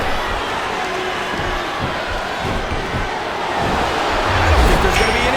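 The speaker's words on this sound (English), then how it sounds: "I'm not sure I agree with what the crowd is chanting, JR, but I guess it's their right" A WWE SmackDown vs. RAW 2007 wrestling arena crowd roars steadily during a tag match, a broad wash of noise that builds louder toward the end, with no talk over it.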